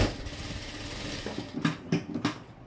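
A sewing machine stitches a dart on a blouse, a low mechanical whir followed by a few short bursts of needle clatter near the end, close and fairly quiet.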